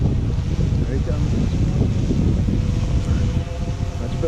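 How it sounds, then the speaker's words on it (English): Steady wind buffets the microphone outdoors, a dense low rumble that stays loud and constant throughout, with faint watery or boat-like noise mixed in. "It's a bit windy up there"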